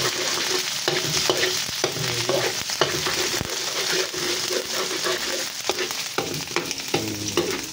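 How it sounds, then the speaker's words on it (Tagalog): Pork sisig is stirred in a hot pan with a steady, fairly loud sizzle, while repeated scraping and clattering strokes of the spoon run throughout. No one speaks. "Mix na lang natin guys yung ating pork sisig."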